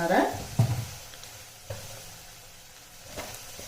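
Mustard seeds and urad dal sizzle in hot oil, a low crackling fry with a couple of brief scraping stirs, fairly quiet and close, with voice-like sounds at the start.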